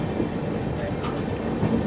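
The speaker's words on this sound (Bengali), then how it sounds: "সামনেই কিন্তু আবার আমাদের ট্রেন মেল লাইনে ঢুকছে" A passenger train on a non-electrified line in northeast India moves onto the main line, a steady rumble of rolling wagons with faint rail clatter throughout, heard from on board.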